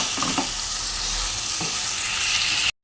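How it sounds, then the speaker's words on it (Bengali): Ridge gourd with spices sizzles steadily in a pan for a fish curry, a dense constant frying hiss with a few soft scraping stirs near the start and middle, close and fairly loud, no voices. "মশলার সঙ্গে ভালো করে ঝিঙেটা কষিয়ে নেব"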